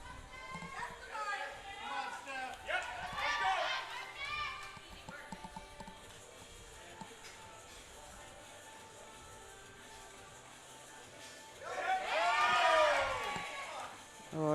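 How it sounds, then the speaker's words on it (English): Crowd at a women's under-69 kg powerlifting meet cheers and shouts to hype a lifter before her deadlift, loud bursts of yelling and whoops rising and falling with a lull in between, amid hall chatter. "She loves a bit of hype and a bit of noise from the crowd"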